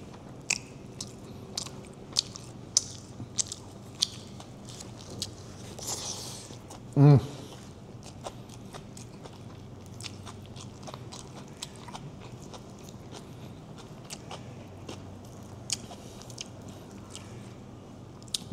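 Crunchy cabbage being chewed alongside nasi ganja with tender beef, soft repeated bites and crunches close to the mic, faint beneath ambient room noise, with a brief louder clatter midway.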